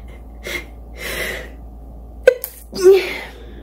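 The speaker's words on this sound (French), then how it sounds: "J'ai envie d'éternuer." A person sneezes once after a few audible breaths, with a quick sharp burst followed by a short exhale, close to the mic in a quiet room.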